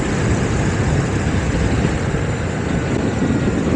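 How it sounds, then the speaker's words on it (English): A 2019 Honda CB300R motorcycle engine pulling up through the gears on the road, a steady broadband roar dominated by wind rush across the microphone, loud and continuous. "I don't know if you could hear that engine going up through the gears there with this new microphone system I've got"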